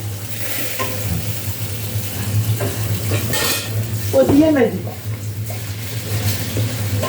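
A steady frying sizzle with a low hum under it during iftar meal preparation, while a voice talks and pans clink now and then.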